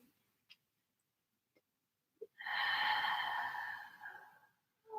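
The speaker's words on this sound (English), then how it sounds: "Keep breathing, always," A person practising yoga lets out one long, audible breath close to the mic after a few faint clicks, then starts another breath, in an otherwise quiet room.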